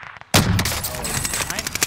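Gunfire in a shooter video game with shields, a sudden loud burst after brief quiet followed by a rattling volley of rapid shots.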